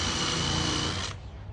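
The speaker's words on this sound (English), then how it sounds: "Okay, Ivin, you want to help Daddy with the drill?" A power drill whirs steadily and loudly during a subfloor install in a DIY camper van, then stops abruptly near the end.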